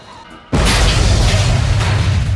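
A loud, sudden explosion in an action film scene where vans are destroyed by charges, rifles and a rocket launcher, bursting after a quiet moment into a sustained deep rumbling roar.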